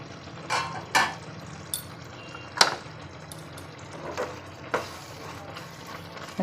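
A spoon scrapes and taps through ridge gourd and peanuts in a pan in a home kitchen, with a few sharp clatters spread over several seconds against a soft steady background.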